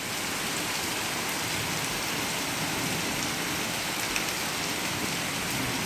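Heavy rain pours steadily during a storm with high wind, a dense, constant hiss of drops drumming on surfaces, loud and close without any break.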